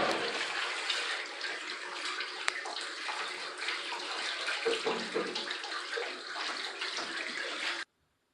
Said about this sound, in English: let me rinse my hands off so I can do the next step